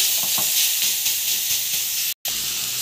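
Beetroot sautéing in a hot pan for poriyal, a steady loud hissing sizzle that fills the whole clip, with faint stirring scrapes underneath and a brief cut-off near the end.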